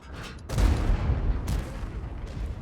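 Tank guns firing in World of Tanks, heavy booming shots with a deep low rumble, one loud blast near the start and another about a second later, each trailing into a rolling echo.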